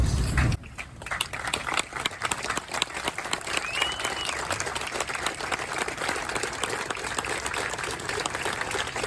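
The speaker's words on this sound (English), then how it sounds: "I think we all owe him a standing ovation, please." A crowd at a ribbon-cutting ceremony for a highway corridor gives a standing ovation, sustained dense clapping that carries on steadily after a brief spoken moment at the start.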